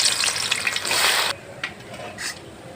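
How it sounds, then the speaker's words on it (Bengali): Chopped onions hitting hot oil for chicken biryani burst into a loud, dense sizzle that drops sharply after about a second, leaving a quieter crackle with a few brief hissing flare-ups. "তেল গরম হয়ে গেছে আমি এখন পেঁয়াজগুলো তেলে ছেড়ে দেব"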